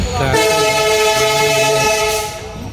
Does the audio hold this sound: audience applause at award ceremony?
no